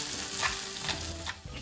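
Food sizzles and crackles steadily in a hot Korean stone pot (dolsot), a close, bright frying hiss with small popping bursts and no talking.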